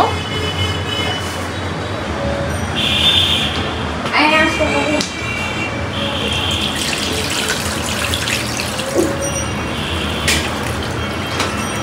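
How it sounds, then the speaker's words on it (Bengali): Water is poured into a pan of fish cooking on the stove, giving a steady running splash under household and traffic background noise. "এখন এখানে আমি পানি দিয়ে দিব।"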